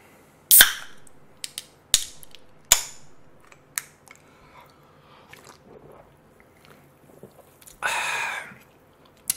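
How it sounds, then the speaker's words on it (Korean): Bites into a handmade Italian pizza give several sharp, crisp crunches close to the mic, spaced a second or so apart. A longer rustling crunch follows near the end, with no talking. "자 먹어보겠습니다."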